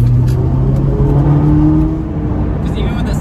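A Honda S2000's Type S aftermarket exhaust revs and drones with a deep, steady engine tone, close and fairly loud, while people talk over it.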